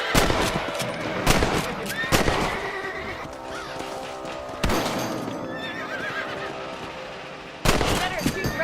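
Gunshots from shooting rabbits in the Red Dead Redemption video game, several sharp reports spaced through the clip over horse neighing, hoofbeats and a dense game soundtrack.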